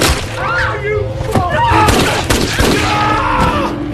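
Gunfire in a mafia film scene, a dense burst of shots and booms layered over music, shouting voices and effects, loud and close throughout.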